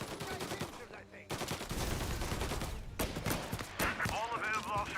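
Rapid gunfire bursts and shots crackle in the Mafia video game, dense and continuous alongside game effects, with voices speaking underneath.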